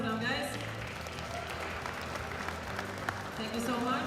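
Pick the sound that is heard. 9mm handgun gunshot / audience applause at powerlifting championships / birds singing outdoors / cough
audience applause at powerlifting championships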